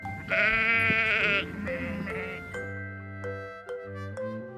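A sheep gives a loud, wavering bleat, followed by a softer second bleat, with light chiming tones continuing afterward.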